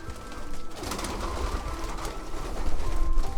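Pigeons coo during an afternoon feeding, soft overlapping rolling calls close by, continuous and growing slightly louder toward the end, with a faint low rumble beneath.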